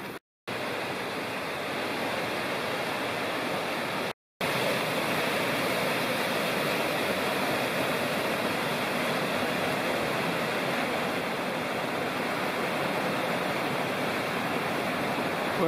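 High, fast water of South Fork Citico Creek at a trail ford rushes in a steady, loud broadband roar, broken by two brief dropouts near the start, with no voices.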